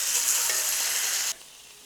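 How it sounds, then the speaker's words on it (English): A5 Japanese Wagyu tri-tip sizzles loudly and steadily in a hot pan just after being flipped, a dense hiss that cuts off abruptly near the end, leaving quieter residual frying. "we want to sear all sides of this beautiful piece of meat"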